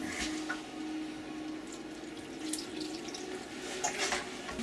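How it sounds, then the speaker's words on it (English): Tap water runs and splashes steadily into a cooking pot to steam mushrooms, a continuous close gurgling wash with small spikes of sloshing and dripping throughout, no voices. "I'm going to put a little more water in there to steam these mushrooms up."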